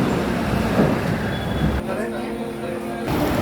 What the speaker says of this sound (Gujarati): આ ટ્રેન જઈ રહી છે